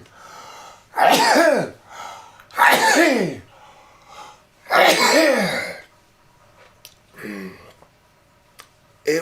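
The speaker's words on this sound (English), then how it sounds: "Obviously, that explains the barrage of sneezes." Three loud, forceful sneezes spaced about two seconds apart, followed by a smaller sneeze or throat sound and faint clicks, heard close up from one person.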